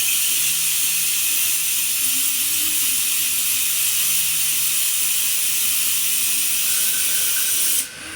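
A Mighty Vac hand vacuum pump draws oil out of a KTM motorcycle fork as a loud, continuous hiss with faint mechanical rattling underneath, dropping off abruptly at the end.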